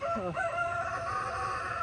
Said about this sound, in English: The rooster's letting you know he's here